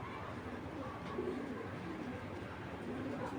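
Afghan grizzle and silver racer pigeons coo in low, soft, repeated calls over a steady hiss of background noise, with a faint voice in the distance.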